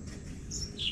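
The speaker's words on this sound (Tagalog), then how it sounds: "Naririnig na naman natin ang mga ibon dito sa" Birds chirp in the morning with a few short, high tweets standing out over a low steady outdoor rumble, fairly faint and without talk.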